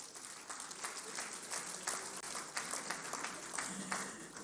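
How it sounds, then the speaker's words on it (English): A public lecture audience bursts into sustained applause for Nigeria, dense overlapping clapping filling the hall at steady loudness throughout, with no pause or trailing off. "A round of applause for Nigeria as a nation."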